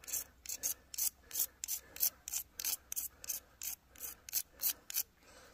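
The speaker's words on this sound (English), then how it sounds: "Get some magnesium scraped on there." A magnesium fire starter is scraped to make shavings inside a hot tent in a cold, snowy forest: about a dozen harsh, rasping strokes in a steady rhythm, close and clear, with no voices.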